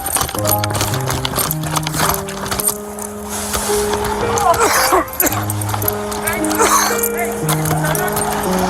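Several dogs bark and yip outdoors in Castle Rock, Douglas County, Colorado, loud and close in repeated bursts, with horse-like clopping and a whimper mixed in while people shout nearby.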